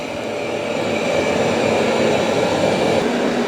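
Roborock S8 Pro Ultra robot vacuum mopping and vacuuming indoors on a floor, a steady loud broadband whirring hum that continues without a break.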